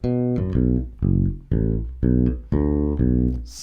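A bass guitar plays the intro riff of a song, fingerstyle: deep, sustained notes in a repeating phrase of plucked groups, clear and alone with no talk.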